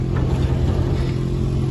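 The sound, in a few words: car reversing on a mountain road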